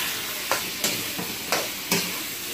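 Rice stir-fried in a pan over high heat, a continuous sizzle broken by four sharp scraping tosses of a spatula or wok at a brisk, even rhythm, close and without talk.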